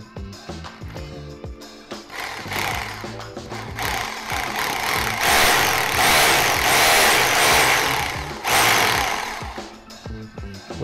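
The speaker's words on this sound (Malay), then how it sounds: "So boleh drill lah guys ini." A power drill boring mounting holes into a wall for an IKEA Skadis pegboard, a loud, close, sustained whine that rises and holds steady, with a few short bursts around it.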